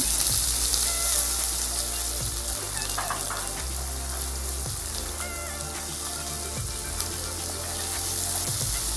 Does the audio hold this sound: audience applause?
no